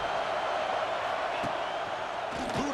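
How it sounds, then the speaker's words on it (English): Stadium crowd in an American football video game, a dense steady roar of cheering that fills the whole stretch with no pauses. "Listen to the crowd energy here in the early going."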